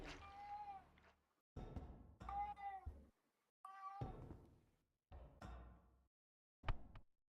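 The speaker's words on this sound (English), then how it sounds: "Somebody's kitty's hungry." A house cat meows repeatedly, several drawn-out, fairly close cries separated by short pauses, with no talk over them.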